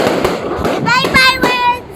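New Year fireworks crackle and pop in quick bursts nearby, sharp repeated bangs with whistling trails, while people talk over them.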